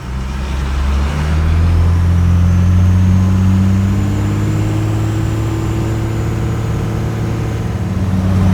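A Cummins-powered GMC square body truck cruising at highway speed, a loud, steady low diesel drone with engine tones slowly shifting in pitch as it accelerates, heard from inside the cab without talking.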